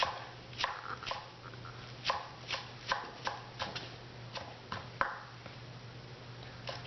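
A knife chops buchu, Korean garlic chives, on a cutting board: about a dozen crisp, fairly quiet knocks in an uneven rhythm over a low steady hum.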